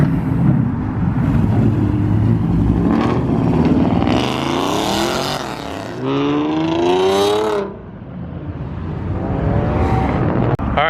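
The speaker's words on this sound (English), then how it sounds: "GTR just pulled up" A Nissan GTR pulls up at a cold outdoor car meet, its engine rumbling and revving loudly nearby with rising and falling pitch sweeps, while people talk over it.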